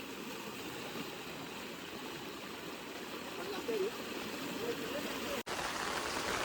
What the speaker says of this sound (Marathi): बापरे पाण्याचा स्पीड बघा किती आहे पाणी इथे